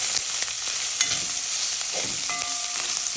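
Ackee and cornflour-coated pork fry in a pan with an even sizzle while a spoon stirs now and then, leaving scattered scrapes and taps over the hiss; nobody speaks.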